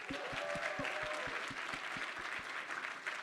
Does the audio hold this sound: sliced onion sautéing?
no